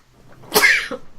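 A single sharp sneeze bursts out close by, a quick inhale then an explosive release fading fast.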